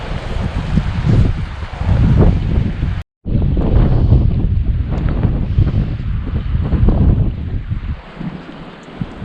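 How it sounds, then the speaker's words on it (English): Strong, steady wind on a clear river, with gusting roar buffeting the microphone loudly throughout, broken by a brief dropout of near silence. "But this wind right now is just super difficult to deal with."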